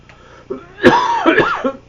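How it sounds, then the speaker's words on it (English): A couple of close, harsh coughs from a person with a cold, with a throaty, voiced edge, loud and brief. "So I apologize for the coughing periodically"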